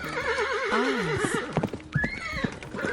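A horse neighs in a long, wavering whinny that rises and falls, followed by a few short snorting calls and clip-clop hoof sounds. It is close and clear, part of a children's set of pet animal sounds.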